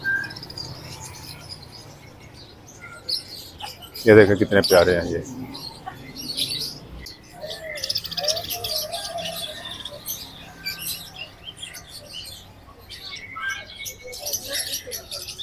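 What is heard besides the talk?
Australian parrots chirping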